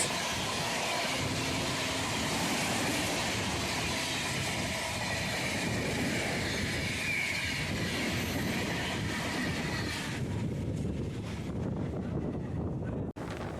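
Purulia Howrah SF Express train rushing past in a steady, loud, continuous roar of wheels and carriages with wind buffeting the microphone, the noise thinning abruptly near the end as the last coaches clear.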